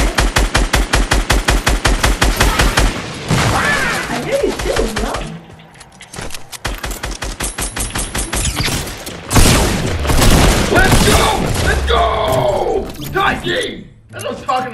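Rapid automatic gunfire from the Fortnite video game rattles in dense bursts, with booming shots and explosions, loud and close, while a player talks excitedly over the action.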